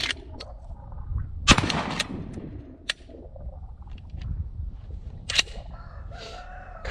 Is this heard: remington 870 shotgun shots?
yes